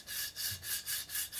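A guitar nut for a baritone guitar build being flattened on one side, with about six quick, even rubbing strokes of sanding, close and fairly quiet.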